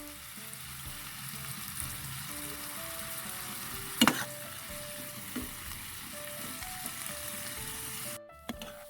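Bitter gourd and egg sautéing in a pan, a continuous close sizzle and hiss with one sharp utensil clatter midway before the sound cuts off abruptly.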